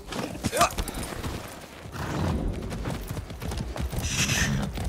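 Horse hooves clip-clop in Far Cry 6, a steady run of light beats mixed with game ambience while people talk over them.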